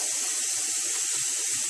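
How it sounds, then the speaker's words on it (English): Hot water running from a tap into a container, a steady broadband rush that fills the whole short stretch at constant level, with no talking. "I'm going to put a water in the container, almost"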